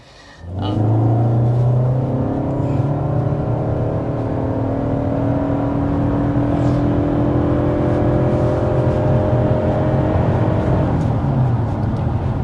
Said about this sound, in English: So there we are, going well past 60 miles an hour with the Camry SE. Up a steep grade.